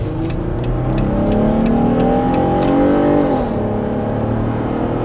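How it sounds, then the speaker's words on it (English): A Jeep on 37-inch tires with 4.10 gears accelerates hard, its engine note climbing steadily, then dropping at a smooth gearshift before pulling again, loud and close from inside the vehicle. "you'll see this Jeep on 37s with the 410 gears shifts very nicely"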